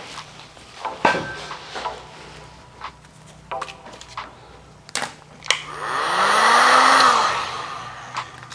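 Heat gun warming a red vinyl wrap stripe on a Miata, a rising whoosh of blowing air for a few seconds near the end, preceded by scattered clicks, taps and handling noises.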